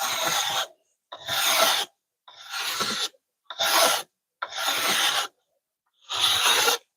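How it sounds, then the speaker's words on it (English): Wooden crossbow bow limb being rasped during tillering: six long, coarse filing strokes with short pauses between them, close and loud, with no talking. "I'm just tillering a crossbow that I'm making."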